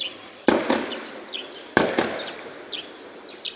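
Two sharp, loud gunshots crack about a second apart during fighting in Congo near a maize field. Each shot leaves a short ringing tail, and faint bird chirps sound in the background.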